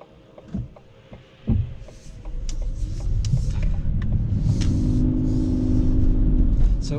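A 2020 Ford Kuga ST Line X plug-in hybrid pulls away hard, a few dull thumps giving way to a steadily building low engine drone and road rumble as the petrol engine starts, close and continuous inside the cabin.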